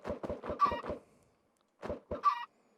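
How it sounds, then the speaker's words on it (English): Chickens in the Minecraft video game cluck in two short rhythmic bursts, clear and close, with silence between. "Got a couple of chickens out there."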